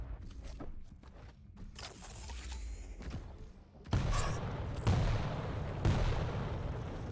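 Rocket launcher blasts in a Quake arena duel, several heavy booming explosions that arrive in sequence, loud against the steady clatter of game movement and weapon noise.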